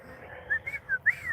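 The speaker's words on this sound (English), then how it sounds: "I'm whistling." A person whistles a few short, wavering notes in a quick playful run, soft and close, with no talking, in a closed park after midnight.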